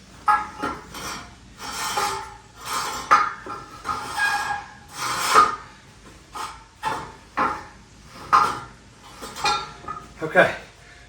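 Repeated cloth wiping strokes drying a tractor tire rim, a steady series of close rubbing swishes with faint clinks of metal in between.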